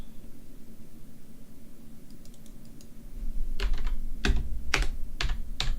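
Keys clatter on a SteelSeries Apex M800 mechanical gaming keyboard, starting as light sparse taps and building into several loud, sharp clacks close by over a steady background hiss, with no talking.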